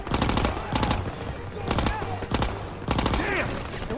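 Repeated bursts of machine gun fire in a World War II setting in Call of Duty: WW2, sharp and loud, arriving in several volleys with brief gaps and mixed with battlefield clamor.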